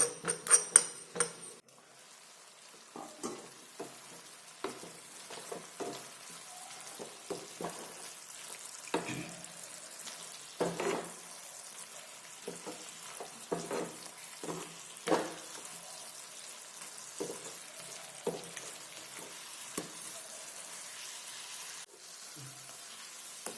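Ingredients for aloo palak warm gently in a pan, giving a faint, quiet sizzle with scattered soft pops and crackles spread across the stretch.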